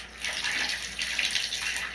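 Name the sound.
shower water running while bathing a dog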